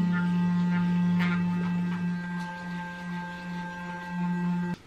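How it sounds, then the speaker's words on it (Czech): Clear Sonic electric facial cleansing brush runs with a steady, close buzzing hum, its pitch and loudness wavering slightly as it moves across the face, then stopping abruptly at the end. "A potom tady mám tenhle kartáček, Clear Sonic. A tím si takhle vyčistím obličej."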